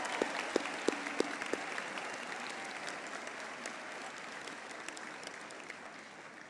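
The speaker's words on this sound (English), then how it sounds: "May we once more give a big round of applause to our graduates." Applause for graduates at a university graduation ceremony, a broad crowd clapping steadily in a large hall, fairly distant and soft, with a few louder nearby claps standing out at the start.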